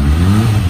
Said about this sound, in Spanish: vamos a hacerle rabiar a la moto con el escape